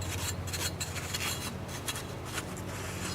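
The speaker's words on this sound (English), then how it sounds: "I'm just going to use a abrasive pad. Try and clean that up a little." Abrasive pad scrubbed steadily against a Mosquito Magnet Independence part, a continuous close rasping rub with quick back-and-forth strokes, alone with no talk.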